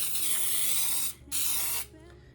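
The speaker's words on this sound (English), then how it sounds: "cooking spray with the flour in it." A can of Baker's Joy cooking spray with flour hisses out in two close, loud bursts of about a second each, separated by a brief pause, with a quiet voice faintly underneath.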